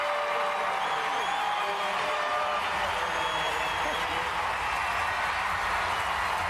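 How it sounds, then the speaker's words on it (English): A crowd in Anaheim at the 2003 World Gymnastics Championships event finals roaring after a tie for first place, with a dense, continuous wash of cheering and applause at steady volume. "the crowd is going absolutely nuts"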